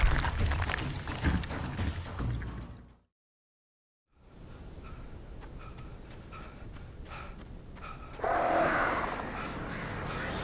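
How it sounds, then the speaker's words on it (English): Crows caw in the video game Alan Wake Remastered, harsh calls scattered through a rustling ambience, broken by a full second of silence before the calls resume, louder near the end. "Birds."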